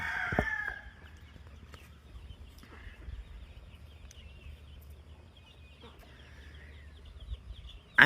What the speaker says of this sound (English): It's Rooster. Look at him, y'all.